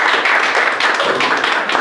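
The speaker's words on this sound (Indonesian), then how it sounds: "Ayo tepuk tangan." Audience clapping during a practical exam session at a university workshop, a dense steady patter of many hands at close range filling the short moment without pause.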